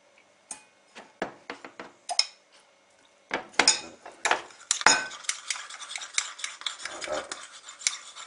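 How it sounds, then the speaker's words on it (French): A teaspoon stirs cornstarch into a sauce for Chinese General Tao chicken, giving sharp metallic clinks and taps against a dish, sparse at first, then a denser run of quick scraping strokes and knocks, close and clear with no talking. "On va mettre une toute petite cuillère à café qu'on va ensuite délayer."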